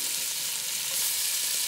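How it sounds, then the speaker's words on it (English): Chunks of 3.5-inch New York strip steak sear in a hot pan, giving a steady, close, even sizzle and crackle throughout, with no voices. "I'm just going to let them sit and sear"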